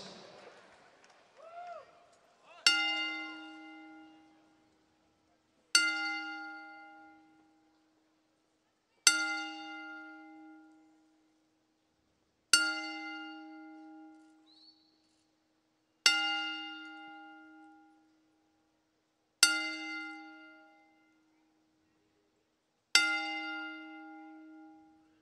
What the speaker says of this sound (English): we ask that you all rise as we honor the life of WWE Hall of Famer, Mean Gene Okerlund, with a 10-bell salute